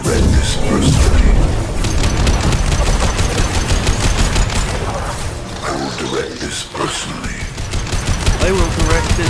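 Rapid, dense gunfire from the Mass Effect video game with flaming ammo, sustained bursts and booms filling the whole stretch at high volume with mechanical clatter, a voice talking over the shooting.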